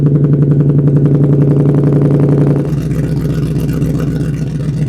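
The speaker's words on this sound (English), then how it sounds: "I am right at the exhaust outlet, the tip here, and we'll start it up and we will see what kind of sound we get out of this thing." A car engine fitted with exhaust resonators is heard right at the exhaust tip, running with a loud, close, pulsing low drone that shifts to a rougher, lower idle about halfway through.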